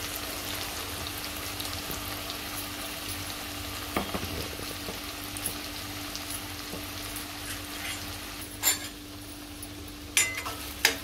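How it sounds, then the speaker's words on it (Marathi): Raw masala paste frying in oil for a Malwani surmai fish curry makes a soft, continuous sizzle, with a few faint clinks and stirring knocks toward the end. "आता हे सगळा मसाला आपण तेलावरती परतून घ्यायचा आहे।"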